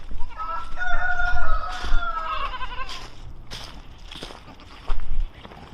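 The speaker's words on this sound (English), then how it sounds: "So the chickens look great." Farmyard chickens cluck and crow close by, with goats bleating among them in a busy barnyard chorus, under occasional talk.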